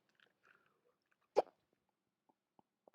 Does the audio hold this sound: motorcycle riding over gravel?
no